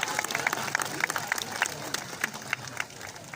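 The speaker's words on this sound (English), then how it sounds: "Let's give her a massive round of applause, guys." Visitors at a sea lion show at Blackpool Zoo give a round of applause, a fairly faint, crisp scatter of many hands clapping at some distance and holding steady for a few seconds.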